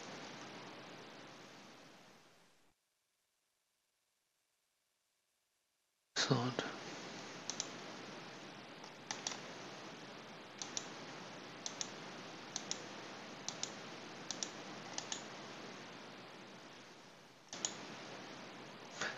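Computer mouse clicks while editing a data-entry program: a series of faint, sharp single clicks spaced irregularly over a steady hiss, following a brief silent gap.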